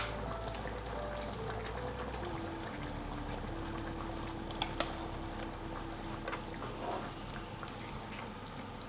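Steady low bubbling and simmering of pork caldereta stew in a pot, with a faint constant hum and occasional light clinks nearby.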